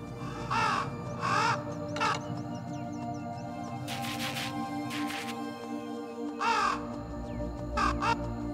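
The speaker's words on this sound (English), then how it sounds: "Cool, birds." Harsh crow caws sound in a video game, loud and close, in groups of two or three spread across the stretch, with scratchy bursts in between and a humming ambient bed underneath, no speech.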